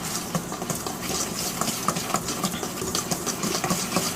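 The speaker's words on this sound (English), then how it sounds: "I'm just going to give this to a stir around with the wire whisk." A wire whisk stirring dry cake ingredients with kosher salt in a bowl, a quick rhythmic scraping and ticking of metal against the bowl, close and steady without talk.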